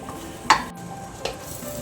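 Bread with egg and vegetables toasting in butter in a pan, a faint steady sizzle under two light utensil scrapes against the pan.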